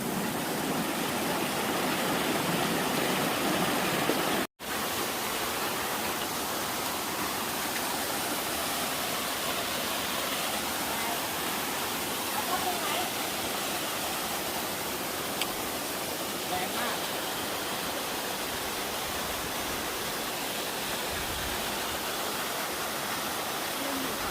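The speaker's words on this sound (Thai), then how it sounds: "ตรงนี้ก็คือเป็นจุดลำธารที่สองก่อนที่จะถึงน้ำตกตาดเมย" A mountain stream rushes steadily and loudly on the trail to Tad Mae waterfall on Doi Khun Tan, Thailand, a constant broadband flow of water close by that continues for the whole stretch.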